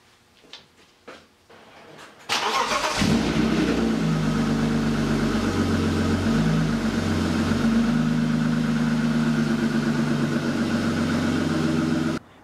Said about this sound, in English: now I can finally pull the car out and hear how this thing sounds